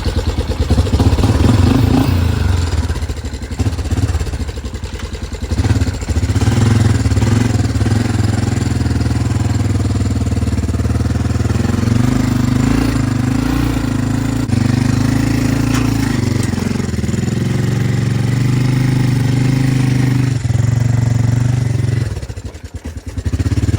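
A cheap used four-wheeler ATV engine running loud and close, a rough, clattering motor that holds steady with brief dips in revs, no talk over it.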